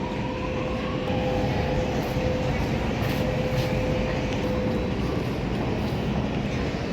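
A train at a Sydney station platform gives a steady, loud rumbling roar that fills the space, with a faint high whine running through it and no clear voices.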